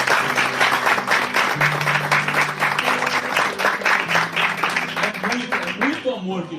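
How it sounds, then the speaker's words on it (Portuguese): A church congregation bursts into strong, sustained applause, dense clapping that holds steady before it starts to thin at the end. "Dá uma forte salva de palmas para esse amor de Deus."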